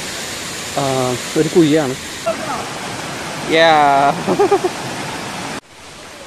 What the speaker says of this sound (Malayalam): നീർച്ചപ്പാറ വാട്ടർഫോളിൻ്റെ കറക്റ്റ് വ്യൂ ആണ് ഇത് പറയാം